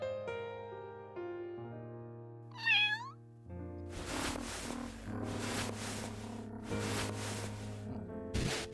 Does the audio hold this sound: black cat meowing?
yes